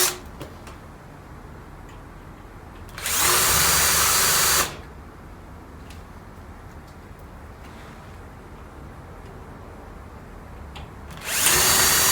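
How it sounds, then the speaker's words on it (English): Two loud bursts of a power drill whirring as it drills out a rivet head on a sliding door roller, each a second or two long, separated by quieter background hum and small clicks. "So I'm just going to drill the head off the rivet so as I can pull it out"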